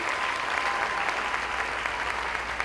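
An audience at a seniors' talent show in Chattanooga keeps up steady, even applause, a dense wash of many hands clapping at middle distance, with no talking.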